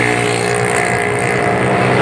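A worn, roughly 2012-model Yamaha Junoon motorcycle engine runs at a steady, loud, throbbing idle-to-cruise drone for a couple of seconds, close by.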